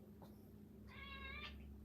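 A cat gives a single clear meow at close range, drawn out and tonal, following a short faint sound in a quiet indoor room.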